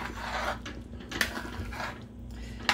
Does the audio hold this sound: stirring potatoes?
yes